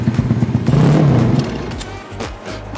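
A modified Honda Astrea Grand motorcycle engine, rebuilt with a new piston and bored to about 150 cc, runs close by with a loud, lumpy, pulsing rhythm before settling into a rougher idle.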